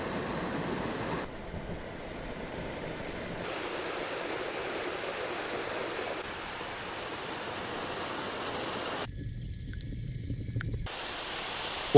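Rushing water of waterfalls and a flowing stream in a wild natural setting, a steady broadband roar that shifts in texture between segments, with no voices present.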